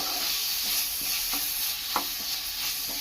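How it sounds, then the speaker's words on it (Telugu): Masala paste fries in a pan for a curry, making a continuous loud sizzle and hiss with a few faint stirring clicks from a spoon against the pan. "మసాలా కూడా వేసి బాగా పచ్చివాసన పోయే వరకు వేయించుకోవాలి"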